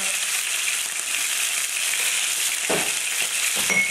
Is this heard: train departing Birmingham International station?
no